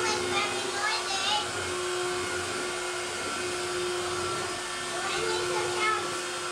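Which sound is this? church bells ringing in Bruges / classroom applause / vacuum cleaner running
vacuum cleaner running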